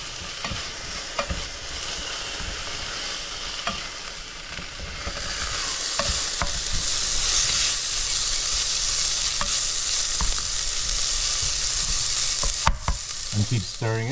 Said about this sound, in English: Now we're going to add the black rice. I'm going to give that a nice little frying.